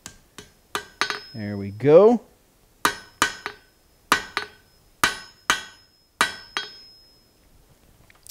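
Blacksmith hammering a hot steel poker to bend it over before the heat wears off: about a dozen sharp, ringing metal strikes in an uneven rhythm, close and loud, with a brief spoken remark between the blows.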